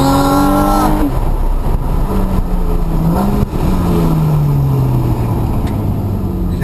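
A 2012 Porsche 911 Carrera S engine with sports exhaust revs hard and loud, its pitch climbing and dropping in several surges, with a raspy, rumbling exhaust throughout.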